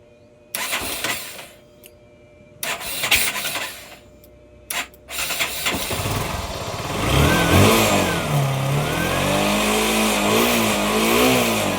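A car engine is cranked and started during a charging test, with a few short clicking and cranking bursts before it catches and settles into a steady, slightly rising idle, close and clear.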